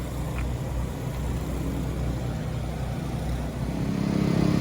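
A Kawasaki ZX10 motorcycle engine runs steadily at a drag race, a constant low mechanical drone mixed with trackside noise that swells slightly louder toward the end.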